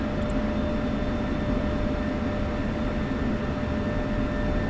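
An F-16CM jet taking off in Digital Combat Simulator: a steady, even roar of jet engine noise held at moderate level throughout, with no talk.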